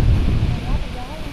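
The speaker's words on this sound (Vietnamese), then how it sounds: "Gió này quá trời gió luôn." Strong wind buffeting the microphone outdoors on a farm with dragon fruit plants, a loud low rushing roar that eases slightly over a brief moment.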